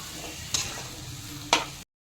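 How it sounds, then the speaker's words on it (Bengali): Spice paste fries with potatoes in a pan for a fish and cauliflower curry, with a soft, steady sizzle and two sharp stirring scrapes about a second apart before the sound cuts off. "মশলাটা খুব ভালো মতো কষিয়ে নিচ্ছি আলুর সাথে"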